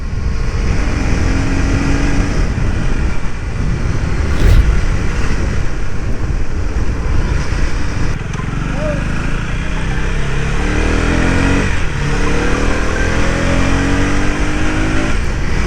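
A KTM Duke 250 motorcycle accelerates hard on a road ride, its engine revving loud and close throughout with a steady roar, rising pulls and heavy wind buffeting.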